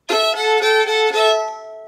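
Fiddle bowed with one string fingered while the bow also touches an open string, giving a rich double-stop drone, close and loud, with a few short bow strokes over about two seconds before fading.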